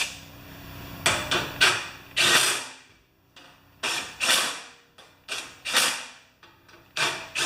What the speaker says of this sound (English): Electric impact wrench makes a huge difference, but you should start them by hand